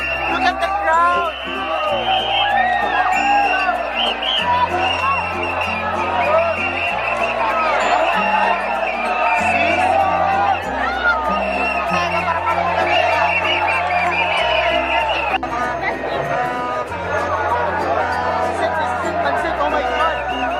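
A packed crowd at the Sinulog 2017 street festival chatters, cheers and laughs over pounding festival drums and bass, a continuous loud roar with voices close by.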